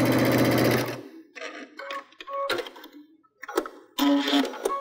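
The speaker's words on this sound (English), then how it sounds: "So I can stitch my two pieces together" A Baby Lock sewing machine with a Digital Dual Feed accessory stitching two quilt fabric pieces together with a quarter-inch seam; a close, loud run of rapid stitching, then scattered clicks and short mechanical sounds.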